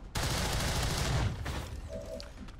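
A trench gun fires in the video game XCOM 2 with a sudden loud blast that rolls into a dense burst of noise lasting about a second, then fades into a quieter tail.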